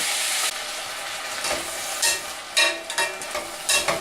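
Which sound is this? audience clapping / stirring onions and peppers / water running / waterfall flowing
stirring onions and peppers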